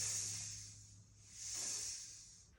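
A voice imitates a baby snake's hiss during a children's yoga class, producing two long, breathy hisses that swell and fade, close and fairly loud, with no words.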